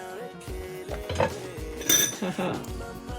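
Dehydrated okra soup with Cameroon pepper is stirred in a pot, a utensil clinking and scraping against the metal in several close, uneven knocks, with a voice talking alongside.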